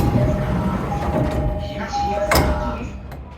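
A Yokosuka Line train bound for Chiba pulling into Higashi-Totsuka station, platform 1, with continuous low rumble, a sustained brake tone and a sharp hiss near the end as it stops.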